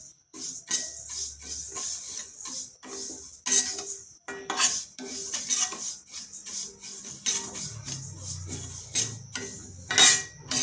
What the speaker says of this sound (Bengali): এবার ডালটা ভালো করে ভেজে নেব।